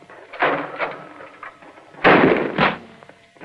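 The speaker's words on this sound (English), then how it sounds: "The red flag. That means there's firing going on." Gunfire on a military skeet range in 1944 sounds as two heavy, booming bursts about a second and a half apart, each fading quickly into a low background hiss.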